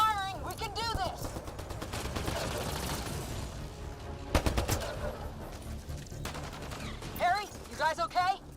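Rapid bursts of sci-fi weapon fire crackle through a Mass Effect: Andromeda battle, mixed with synthetic chirping effects and shouted voices, with sharper shot clusters standing out partway through and near the end.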